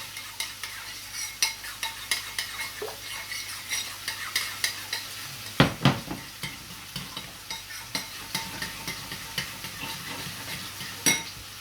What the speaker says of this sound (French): Vous remuez vos jaunes d'œufs avec votre crème fraîche.